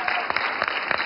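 A short burst of dense audience applause at a live show, many hands clapping together close and steady.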